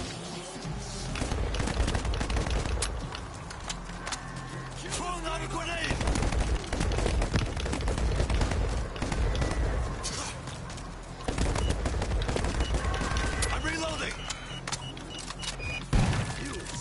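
Big guns firing in a zombie video game, rapid bursts of gunfire in long, fairly quiet stretches with short gaps, with some cooing-like sounds mixed in.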